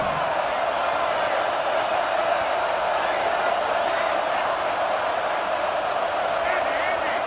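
A dense, steady roar from the crowd fills the football stadium at the Florida Gators vs Texas A&M game, with a commentator talking over it.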